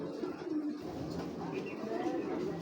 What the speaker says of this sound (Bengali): এটা অনেক পুরান জাতের কবুতর।